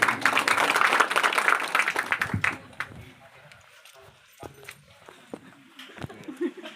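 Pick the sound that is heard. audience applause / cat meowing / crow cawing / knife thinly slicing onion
audience applause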